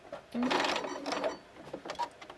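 A sewing machine stitching pieces of bias tape together, a short close burst of rapid mechanical whirring that stops briefly and starts again, with faint background noise.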